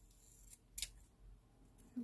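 Scissors trim paper planner stickers by hand, giving a few quiet, close snips spread unevenly over a couple of seconds against a faint background.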